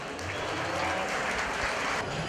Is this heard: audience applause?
yes